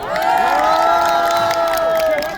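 Outside the Constitutional Court, a crowd applauds and cheers for the defense lawyers, with loud whoops and shouted voices rising over the clapping in one sustained burst.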